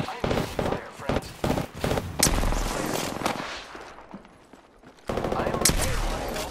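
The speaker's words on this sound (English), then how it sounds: "I am taking fire, friends." Rapid bursts of gunfire from the video game Apex Legends, loud and close, with sharp repeated shots in clusters, a brief quieter lull, then another heavy volley.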